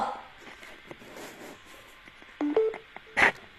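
A few short electronic beeps and tones from a mobile phone, then a brief louder chirp, over faint background noise.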